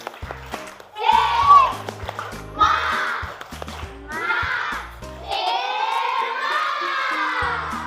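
Schoolchildren in a classroom do the tepuk semangat, a chanted clapping routine: a group of young voices calls out in bursts, punctuated by short volleys of hand claps in a patterned rhythm, fairly close and lively.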